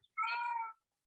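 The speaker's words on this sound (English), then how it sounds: "I'm sorry, that's my cat." A single house cat gives one clear, drawn-out meow lasting about half a second, close and fairly loud against an otherwise silent background.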